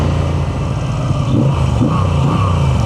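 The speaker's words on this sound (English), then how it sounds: "when I was revving the bike, it's moving to the side" A Moto Guzzi V7 Sport motorcycle's boxer twin engine revs steadily up close, a loud continuous low rumble with slight rises in pitch, no voices over it.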